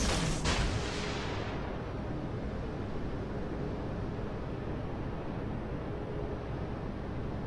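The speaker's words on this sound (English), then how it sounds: "He's probably going to dodge the second salvo, but I'm going to try anyway." A destroyer in World of Warships, a Japanese Umikaze, fires a salvo: a sharp booming blast at the start that rolls off into a steady low rumble of sea and engine noise, with no talk.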